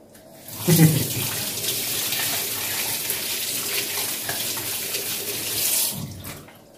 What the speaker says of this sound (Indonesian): Terus timunnya mau saya cuci